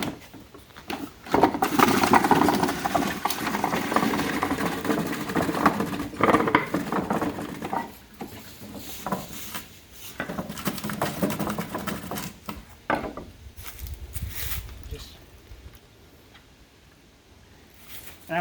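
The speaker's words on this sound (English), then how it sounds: "we're just going to grind it, and literally this is going to go back, so that way all of the apple meal go in the basket" An apple grinder chews through apples for cider pressing, a loud rumbling mechanical churn with ticking rhythm that eases and resumes, then drops to quieter handling noises.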